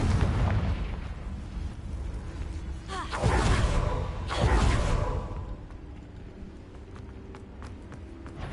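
A Confringo blasting spell explodes in Hogwarts Legacy combat: two heavy booming bursts with whooshing rushes a second apart, followed by lighter clattering debris and scattered small hits that fade to a quieter tail.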